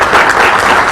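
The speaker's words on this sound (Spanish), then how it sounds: "Fuertes los aplausos entonces para" A short, loud burst of steady applause from a crowd at a formal agreement-signing ceremony, dense and even throughout.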